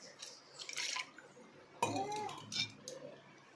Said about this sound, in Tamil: அடுப்பில் தூக்கி வச்சாச்சு.